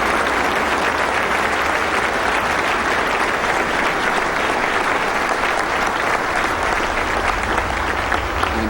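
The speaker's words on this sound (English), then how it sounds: "and they applaud him." Dense, sustained applause from a large crowd of Catholics fills the whole stretch, loud and steady, with no break in the clapping.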